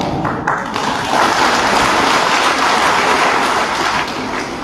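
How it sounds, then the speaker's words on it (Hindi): Sustained audience applause fills a hall at a public talk on superstition and ritual, a dense, steady wash of many hands clapping at close range with no voices over it. "ताली आपने बजाई"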